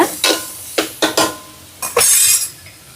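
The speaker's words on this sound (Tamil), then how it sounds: "செத்தல் மிளகாய், கரை மிளகாய். இப்போ இது நல்லா வதங்கட்டுக்கும்." Dried chillies and chilli pieces being stirred in a pan, with sharp clinks of a metal spoon against the pan and a light sizzle between them.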